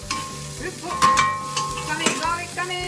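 Pepper and garlic sizzle in a hot pan for Mongolian beef, a steady frying hiss with occasional scrapes and clinks of a stirring utensil. A voice speaks briefly over the cooking.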